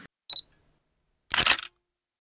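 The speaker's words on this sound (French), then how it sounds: "on fait une photo" Camera shutter clicks while photographing a high rocky staircase in the Fontainebleau forest: a short click, then a louder, longer mechanical shutter burst about a second later, crisp against near silence.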